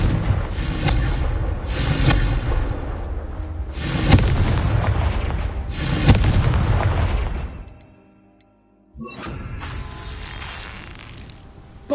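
Confringo blasting spells from Hogwarts Legacy erupt in heavy, booming explosions, several big bursts rolling over one another, then a brief near-silence before another loud blast and crackling aftermath.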